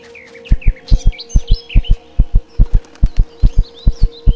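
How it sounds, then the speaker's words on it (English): Heartbeat in the video game Empyrion Galactic Survival: loud, close, deep double thumps pulse at a steady, quick rhythm, about fifteen beats, while birdlike chirps and tweets flit faintly above. "You hear my heart beating."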